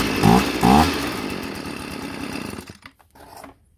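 A Tanaka leaf blower engine sputters with two sharp pull-start bursts and then runs in a rough, buzzing idle for a couple of seconds before cutting out.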